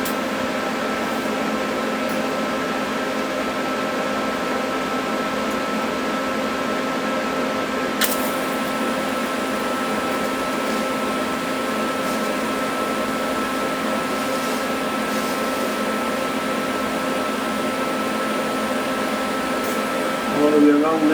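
TIG welding around a flange on a homemade gas turbine combustor, a steady continuous hum and hiss with a faint high whine, constant level throughout and close by, with no talk.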